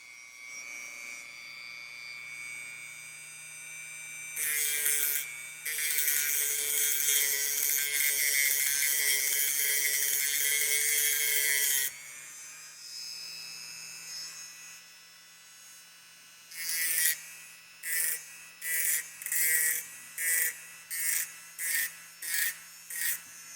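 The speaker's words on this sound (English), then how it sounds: "Just got a quartz grit sanding drum on here. Relatively low speed." Rotary tool with a quartz grit sanding drum running at low speed to sharpen the jimping on a Kershaw Emerson CQC-11K knife: a sustained high whine for several seconds, then a series of short, regular grinding bursts, with no talk.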